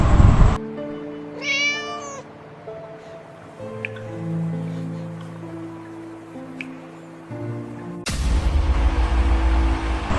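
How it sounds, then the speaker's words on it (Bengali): A cartoon mother cat gives one wavering, crying meow for her lost kitten early on, set against soft sustained musical tones and faint drips, before a loud burst of noise at the end. "বিড়াল ছানার মা কাঁদতে থাকে এবং তার কথা ভাবতে থাকে।"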